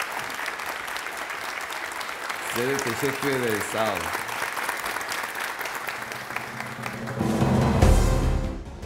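Audience applause fills a hall during a Quran recitation competition, a steady wash of clapping under someone speaking, swelling louder near the end.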